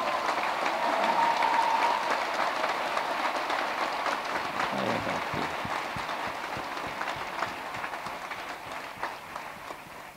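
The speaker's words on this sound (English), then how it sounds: "let's give them another round of applause as they now leave the hall" A graduation-hall audience applauds in a dense, steady wash of many hands clapping. It holds for about ten seconds and fades slightly toward the end, with no voices.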